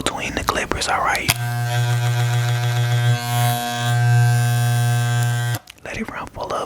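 Electric barber clippers buzz steadily for several seconds after being sprayed with cleaning liquid, a loud close hum with strong harmonics, bracketed by brief handling noises before and after.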